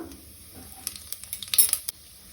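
Shahi jeera hits hot oil for a prawn biryani, a short burst of crackling sizzle with a few sharp pops and spoon clinks, rising and then cutting off abruptly.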